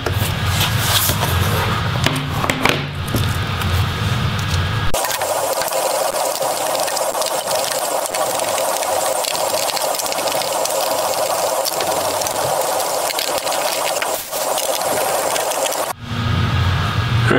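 Screws are removed from a Dell Inspiron 7773 laptop with a small 2.5 Phillips bit, heard as a steady loud whirring buzz, like an electric screwdriver, that starts and stops abruptly and runs for several seconds.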